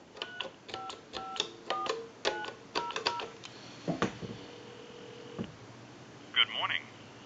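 Call being dialed on a British desk telephone, a quick run of short tone bursts in irregular groups, then a longer held tone and a brief final burst, close and clear with no talk.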